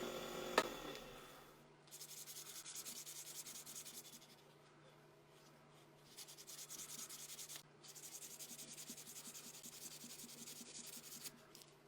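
Close, quiet rubbing of 400 grit sandpaper on a copper and wood fountain pen, coming in two long steady passes separated by a short pause, with a soft tap near the start.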